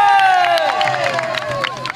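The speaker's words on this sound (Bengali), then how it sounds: "ওদের জন্য একটা হাততালি হবে" A crowd at a camel market in Bangladesh cheers and applauds in a dense burst of claps and voices, with loud shouting over the clapping that fades slightly toward the end.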